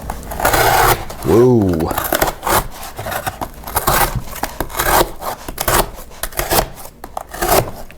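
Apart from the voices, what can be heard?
CIVIVI Hooligan knife blade with hollow grind slicing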